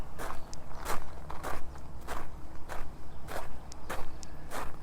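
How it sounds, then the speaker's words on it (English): Footsteps crunch across gravel outdoors at a steady walking pace, each step a close, gritty scrunch repeating about twice a second with no talking. "I'm sure they hear me walking on the gravel"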